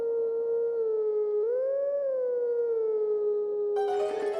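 A wolf howls at the Howling Stone in Twilight Princess, one long sustained tonal howl that bends upward midway and then settles, steady and fairly loud; a brief burst of game noise enters near the end.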